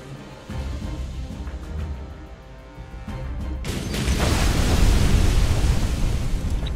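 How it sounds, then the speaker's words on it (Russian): A modernized Mi-8 helicopter crashes in Rambo The Video Game: a low engine rumble gives way to a sudden, heavy crashing roar that stays loud to the end. "И мы падаем на Ми-8 модернизированном."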